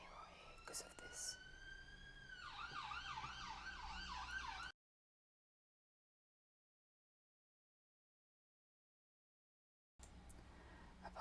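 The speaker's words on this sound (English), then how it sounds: "Apologies for the sirens going past." Emergency vehicle sirens wail past outdoors with rising and falling tones, fairly loud, then cut off into a long silent gap before traffic noise returns; a whisper-quiet room tone sits under it.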